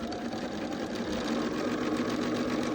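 A sewing machine sews quilt pieces at a seam, running continuously and close with a steady, even whir throughout.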